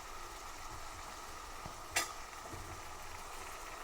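Spring onions and green peas dry roast in a pan with a soft, steady sizzle, faint stirring scrapes and one brief sharp clink of a utensil near the middle.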